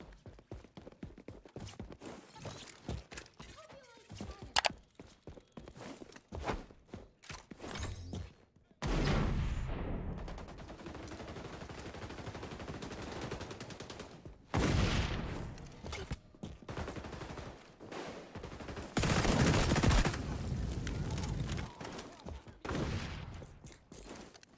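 Gunfire in the XDefiant shooter game: rapid bursts of automatic weapon fire and scattered single shots come in clusters, loud and close, separated by short quieter gaps with footsteps, and no talk.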